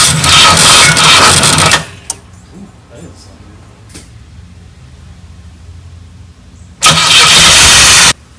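A 1984 Pontiac Fiero engine, sitting unused for 30 years, is cranked in two loud, close bursts separated by a quiet pause with faint clicks. It churns without starting each time.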